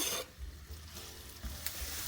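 A soft sizzle of onion frying in a pan, with a brief clatter of stirring and faint low hum underneath.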